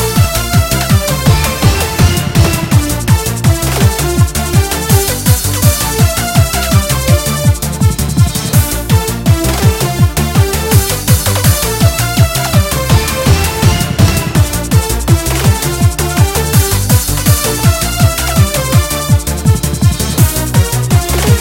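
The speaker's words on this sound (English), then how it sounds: "Very energetic, bouncy, upbeat kind of synth stuff." Energetic, bouncy Eurobeat-style synth track based on a Touhou game song, with a steady driving pulse, dense layered synths and a thumping beat, loud and continuous throughout.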